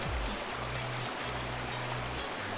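River water in a video game rushing in a steady broadband wash, with a low pulsing hum underneath, close and continuous without speech.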